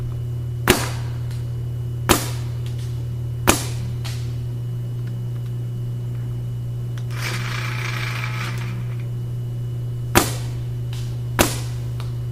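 Nelson paintball marker firing into woods: five sharp, close single pops spaced a second or more apart over a steady low hum, with a brief hiss between shots.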